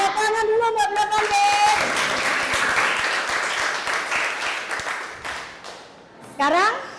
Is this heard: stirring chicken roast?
no